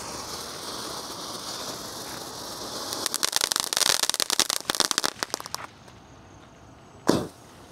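A fountain firecracker with six spinning wheels goes off outdoors: a steady hiss of sparks swells into a loud, dense crackle of rapid pops, then fades, with one sharp bang near the end.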